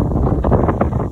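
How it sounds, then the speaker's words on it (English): Wind gusts outdoors in the bush among eucalyptus trees, a loud, low rumbling buffet against the microphone that pulses unevenly for about a second, with no voices. "Now the wind's still blowing, but have a look at this."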